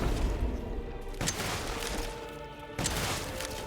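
Gunfire from a boss fight in the video game Resident Evil Village: a few sharp, loud shots spaced about a second and a half apart over a rumbling game soundscape, with no talking.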